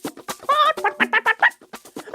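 A hen clucks in a rapid, close series of loud, rhythmic calls, with one drawn-out squawk followed by quick pulsing clucks in a Christmas storytelling setting.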